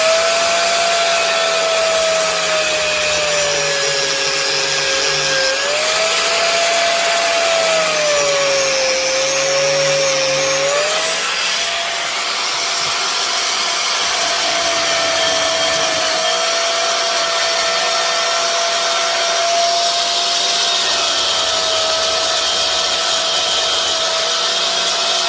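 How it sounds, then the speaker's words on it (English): An angle grinder fitted with a worn blade cuts apart a Bosch electric mixer for scrap, a loud, continuous, close whine whose pitch sags and recovers as it bites into the metal, with no talking. "Turn on our grinder. It does need a new blade"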